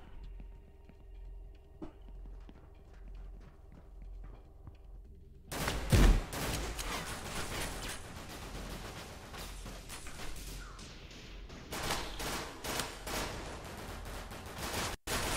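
Gunfire from the Severed Steel first-person shooter game, a steady run of sharp shots over a continuous rumbling game mix, with a heavy boom near the start and repeated crisp bursts toward the end.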